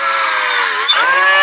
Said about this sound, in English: I'm going to use that Dremel and go right at the center top of the head